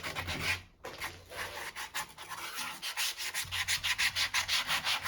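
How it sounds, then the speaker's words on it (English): Sandpaper rubs back and forth over the corners and edges of a wooden plaque for a deer skull European mount, a steady close scratchy rasp with a regular stroke rhythm that quickens toward the end. "hit that with sandpaper. All over the corners and the edges."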